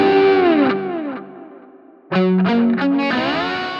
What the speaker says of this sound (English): Or this sultry slide sound.